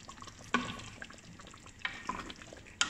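Butter chicken with cooking cream stirred in a pan, quiet steady bubbling with a few distinct scrapes and clinks of the spoon at intervals, no talking.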